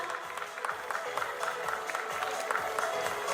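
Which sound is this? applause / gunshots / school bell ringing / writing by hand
applause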